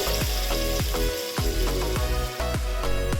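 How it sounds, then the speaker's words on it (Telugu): Curry leaves sizzle and crackle steadily in hot tempering oil for a brinjal tamarind stew, with close, loud frying bursts pulsing every half second or so and no talking. "తర్వాత ఒక రెబ్బ కరివేపాకు వేసి ఫ్రై చేసుకోవాలి"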